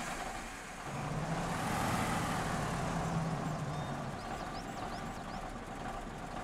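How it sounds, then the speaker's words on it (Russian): A 12x12 heavy truck in the Spin Tires video game runs its engine at low revs, a steady deep drone with a slight swell in loudness, heard alone with no talk. "Четкий звук двигателя."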